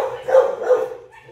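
A dog barks twice in quick succession, close and fairly loud, followed by a short softer whine.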